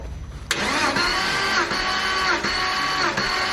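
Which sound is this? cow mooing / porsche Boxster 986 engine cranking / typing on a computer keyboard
porsche Boxster 986 engine cranking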